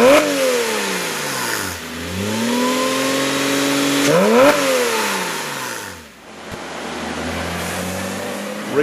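A Porsche Cayman S fitted with an AWE Tuning stainless exhaust revs repeatedly, pitch sweeping up and dropping back in several loud, close pulls, with a brief dip before the last rev.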